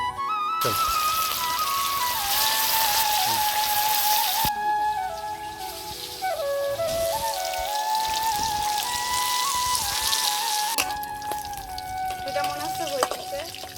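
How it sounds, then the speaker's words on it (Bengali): Hilsa fish sizzles loudly in hot oil in a village kitchen, a dense, steady crackling and spitting that runs almost unbroken, with a few faint tonal whines and brief voices in the background. "তেল গরম হয়ে গেছে এবার মাছগুলো দিয়ে দেব"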